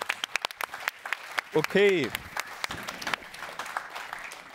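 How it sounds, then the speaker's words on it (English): Audience applause at a panel discussion, with scattered sharp claps, a brief spoken word and a short harmonic cry rising above it midway. "I think this is worth an applause"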